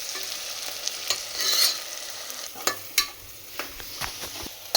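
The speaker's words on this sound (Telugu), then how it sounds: "ఇవి గోల్డ్ కలర్ రావాలి, అంతవరకు వేగాలి" Ingredients for chicken biryani fry in a pan until golden, with a soft sizzle under repeated scraping and stirring taps of a utensil against the pan, heard close up with no talk.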